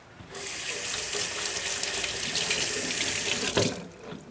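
A kitchen tap runs in a steady, close, full stream of water for rinsing while baking baklava at home, with a slight surge near the end before it stops.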